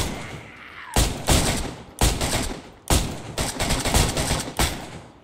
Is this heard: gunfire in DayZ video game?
yes